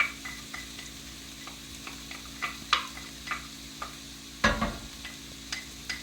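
Garlic sizzling in a pan with softened Swiss chard stems for braised white beans and greens, a quiet steady fry punctuated by a spoon's scrapes and taps, one louder clatter near the end.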